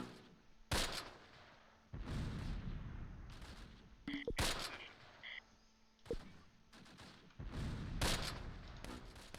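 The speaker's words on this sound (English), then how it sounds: "Hopefully they run out of mortars soon." Mortar blasts and gunfire ring out on the Groesbeek Heights battlefield in the Close Combat Last Stand Arnhem war game, with repeated sharp cracks and bursts of shots, some in quick clusters, sounding fairly distant and rather quiet.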